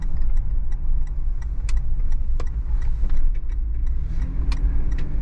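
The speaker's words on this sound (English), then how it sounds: "Building up some speed on the brakes, and I'm avoiding a complete stop." A 2020 Toyota 4Runner with quad-piston fixed calipers, fresh from a brake job, rolls along with a steady low road and engine rumble while scattered light ticks and clicks sound from the vehicle as it slows under braking.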